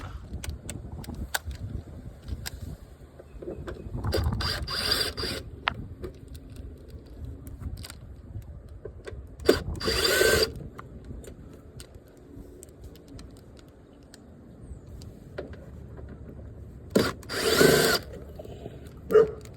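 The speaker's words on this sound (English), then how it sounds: "the very first thing we're gonna need to do is remove these screws" Cordless power drill backing screws out of the side skirt on a Honda Accord, with a few short bursts of whirring near 4 to 5 seconds, 10 seconds and 17 to 18 seconds, separated by quieter handling noise.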